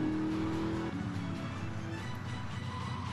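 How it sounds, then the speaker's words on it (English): A van driving in the Grand Theft Auto 3 video game, a steady engine drone with a shifting hum and a pitch drop near the start, moderately loud and continuous with no talking. "by the sound of it, I would guess it's some kind of a van"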